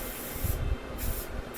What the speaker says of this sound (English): just regular Rust-Oleum spray paint works really well, gives it a nice sheen, a good color.